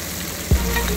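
Onion sizzling as it is added to hot oil in a pan while cooking a Gangetic koi fish bhuna, a sudden soft thump followed by a steady, loud frying hiss with no talking.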